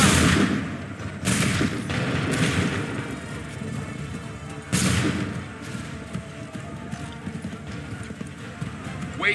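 Musket volleys fired on command in Assassin's Creed III, with a few sharp, loud bursts standing out over steady horse hoofbeats, whinnies and battlefield commotion.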